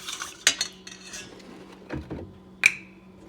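Egg and vanilla essence being mixed in a bowl for a cinnamon roll dough, with sharp clinks of a utensil against the bowl at irregular intervals over a quiet background.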